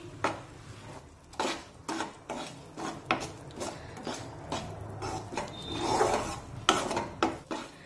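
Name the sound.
wheat flour being roasted and stirred in ghee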